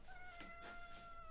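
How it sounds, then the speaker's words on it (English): A domestic cat meows faintly in the background, a short plaintive call with a couple of wavering pulses, heard alone without speech. "Oh, that's my cat there meowing."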